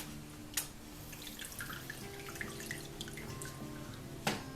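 Water trickles and drips over paydirt being rinsed down, a soft, close, steady patter with a couple of sharper splashes and no voices.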